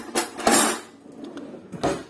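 Spoons, forks and other metal kitchen utensils rattle and clink in a compact rented apartment kitchen in Istanbul, in two or three short clattering bursts with pauses between them, close by and with no talking.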